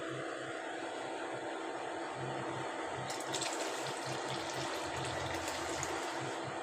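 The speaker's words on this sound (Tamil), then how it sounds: "இப்போ கரைச்சி வச்சுருக்க புளியை ஊற்றிக்கலாம்." Tamarind water pours steadily into a pot with a continuous splashing gurgle, becoming brighter and more hissing partway through, close by and fairly loud.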